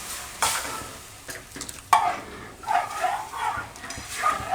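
A spoon stirs dudhi (bottle gourd) kadhi with yogurt in a pot, giving a few soft scraping, sloshing strokes at close range with brief quiet gaps, no talking.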